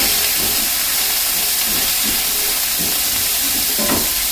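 Chicken cacciatore with mushrooms sizzles loudly and steadily in a pan, with a few soft scraping strokes of stirring under the constant hiss.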